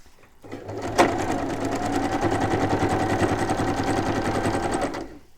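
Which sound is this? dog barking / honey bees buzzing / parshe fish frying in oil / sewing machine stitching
sewing machine stitching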